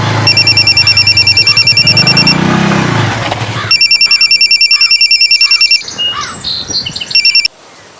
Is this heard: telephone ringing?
yes